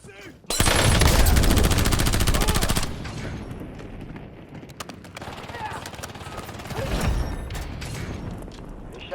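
Rapid bursts of automatic gunfire in a battle royale video game, loud and dense for the first few seconds, then scattered shots and game effects continuing at lower level.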